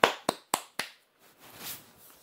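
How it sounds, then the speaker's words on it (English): Four sharp, evenly spaced hand claps ring out close and crisp in quick rhythm, followed by a faint, muffled rustle. "Everybody clap it up to Nathan Peterman"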